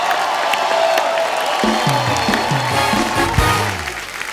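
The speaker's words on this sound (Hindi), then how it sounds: "तालियां बजती रहनी चाहिए।" A studio audience at a comedy talk show applauds and cheers, a dense, loud wash of clapping continuing throughout with some crowd whoops mixed in.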